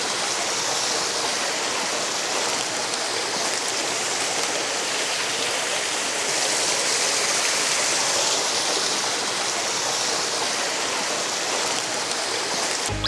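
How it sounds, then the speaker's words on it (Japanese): Steady, loud rushing of a waterfall near an abandoned mountain village in Japan, a dense broadband roar that stays constant throughout with no voices. "滝だ、すごいね。 こんなに激しく流れてる水はあんま見ないですもんね。"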